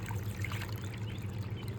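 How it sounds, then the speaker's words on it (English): Water trickles and pours steadily into animal water bowls at a backyard pen for chickens and a cat, with a low hum underneath and no talking. "I'm trying to fill waters here"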